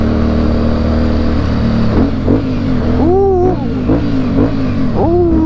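A modified Yamaha Byson motorcycle engine rumbles loudly up close, with repeated sharp revs rising and falling in pitch over a steady idle.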